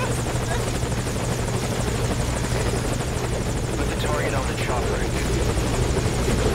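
A helicopter's steady rotor drone in Metal Gear Solid V: Ground Zeroes fills the scene, loud and constant throughout, with a faint voice briefly underneath.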